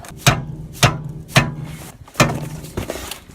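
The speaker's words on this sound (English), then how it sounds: "Let's see if we can make this work in a confined space. Just use the hammer." Sharp metallic hammer blows strike a car joint at a steady pace, about six hits, close and loud with brief ringing after each.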